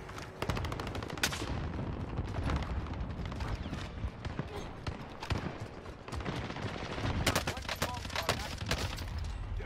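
Gunfire in the Call of Duty Warzone video game: rapid bursts of close, sharp automatic shots crackling again and again over dense game noise, with a voice talking now and then.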